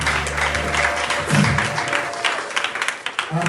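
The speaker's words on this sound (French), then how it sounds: "acclamons pour Jésus-Christ" A church congregation applauds during a Sunday worship service, a sustained moderate patter of clapping hands in a reverberant room that thins into scattered claps toward the end.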